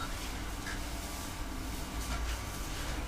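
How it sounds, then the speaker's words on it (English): A steady, soft whirring hum runs throughout with no breaks from a small solar-powered fan humming quietly inside a greenhouse. "That noise you can hear, guys, is a solar powered fan I have in here."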